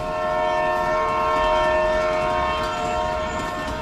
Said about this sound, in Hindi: ट्रेन बार बार हॉर्न मार रही थी